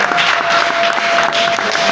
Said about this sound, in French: Et ça, on applaudit, s'il te plaît.